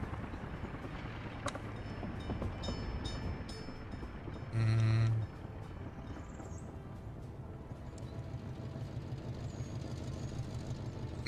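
A train engine labors up a hill in a realistic-mode train simulation game, a steady low rumble throughout with a brief louder horn-like blast partway through.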